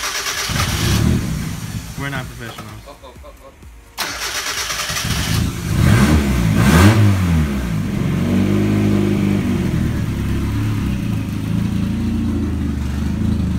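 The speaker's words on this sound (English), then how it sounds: "we're gonna go ahead and turn it on, do the first startup" A turbocharged Mazda Miata engine fires up for its first start. It cranks, catches partway through and settles into a loud, steady run, with excited voices talking over it.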